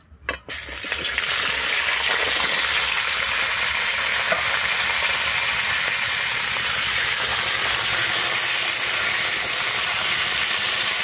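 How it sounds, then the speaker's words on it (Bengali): Sliced pointed gourd (potol) drops into hot oil in a pan, starting with a few splashing hits before a loud, steady, close sizzle of frying continues unbroken throughout. "আমি ওই তেলের মধ্যে দিয়ে দিচ্ছি কেটে রাখা পটলটা।"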